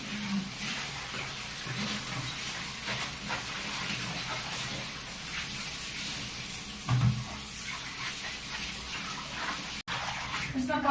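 Water splashing and running steadily while laundry is rinsed by hand, a continuous sloshing wash close by, with people talking over it.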